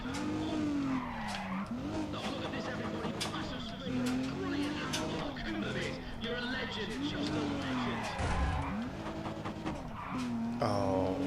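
Car drifting in a Need for Speed game on PlayStation, repeated rising and falling tire squeals over a revving engine, loud and continuous, with someone talking over it.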